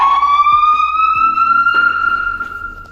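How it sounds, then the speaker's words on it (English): Police siren mounted on a Tesla Model 3 wails loudly and steadily, a rising electronic tone with harmonics that jumps in pitch partway through, with a few low thumps beneath. "Now, the siren itself."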